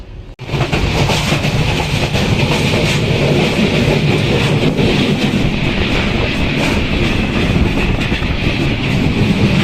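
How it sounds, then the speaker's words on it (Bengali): Kurigram Express pulling out of Parbatipur railway station, a loud, steady rumble of wheels and carriages with faint clickety-clack rhythm throughout. "আমরা এই পার্বতীপুর রেলওয়ে স্টেশন ছেড়ে যাচ্ছি"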